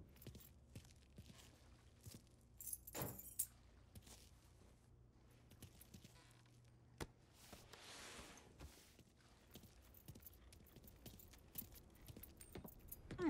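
Keys jangle in the video game Mafia 3, a faint metallic rattling spread across many short clinks, with a louder burst partway through and scattered soft footstep-like knocks.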